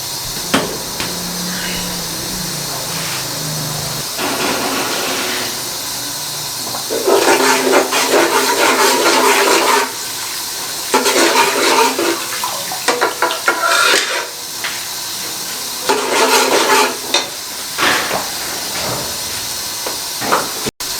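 A juicer blender jug grinds tomatoes, green chillies, garlic and ginger with water, running in several loud whirring bursts separated by brief pauses, close and alone without talk.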